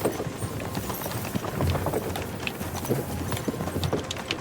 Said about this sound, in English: Nice horses you have there.